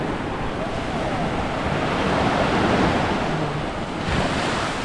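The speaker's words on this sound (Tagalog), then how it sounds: "malaki po yung alon" Large sea waves surge and crash in a continuous heavy roar, with wind buffeting the microphone throughout, loud and close.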